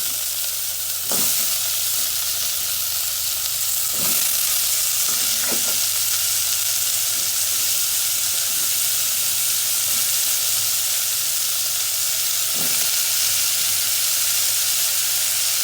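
Squash and string beans hit a pan of sautéed onion, tomato and garlic, giving a loud, steady broad sizzle with occasional stirring knocks and scrapes, no voices.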